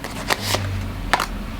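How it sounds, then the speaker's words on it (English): Tarot cards being shuffled by hand: a couple of quick papery riffles and flicks in close succession, crisp and near, over a faint low background hum. "I just want to get a good shuffle"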